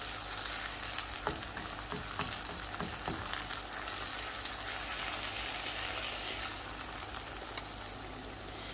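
Tomatoes fry and soften in a pan for a split chickpea dish, giving a steady, quiet sizzle with a few scattered clicks and pops throughout, no talking.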